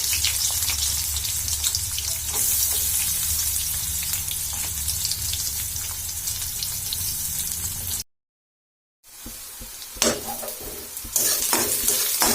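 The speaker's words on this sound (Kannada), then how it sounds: "ಉಳ್ಳಾಗಡ್ಡಿ ಹಾಕ್ತೀನಿ ನೋಡ್ರಿ." Chopped onions frying in hot oil give a loud, dense sizzle with stirring scrapes, drop to silence for about a second, then resume with sharper clanks of a spoon against the pan.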